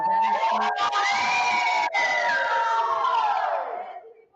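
A large crowd at a radio station event cheers and shouts together in one loud sustained roar, voices rising and swelling before fading out at the end.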